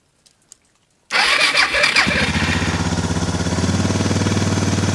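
A Suzuki DR650 motorcycle engine cranks and fires up on choke after a couple of faint clicks, then settles into a loud, steady, throbbing idle.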